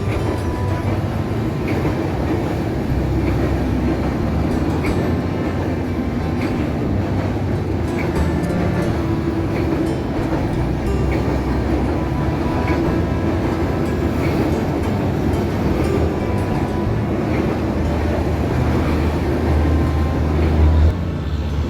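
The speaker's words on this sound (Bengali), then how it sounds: "Down Drutojan express Raninagar rail স্টেশনের 1 নম্বর লাইন দিয়ে এই মুহূর্তে প্রবেশ করছে।" Down Drutojan Express, an intercity train hauled by a 6629-series locomotive, rolls into Raninagar railway station on line 1, a loud, steady roar of wheels and carriages close by throughout, with no voices.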